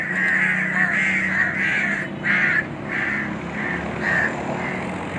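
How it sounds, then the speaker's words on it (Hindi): Several crows cawing in a fight, loud rhythmic harsh caws repeating roughly every half second, close by over faint background noise. "कौवे तो काफ़ी तादाद में आ गए हैं।"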